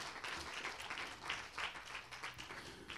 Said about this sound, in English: good hand clap of praise